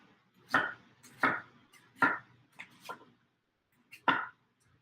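Kitchen knife chopping onions on a cutting board, five or six firm, separate chops in an uneven rhythm, close and fairly loud with no talking.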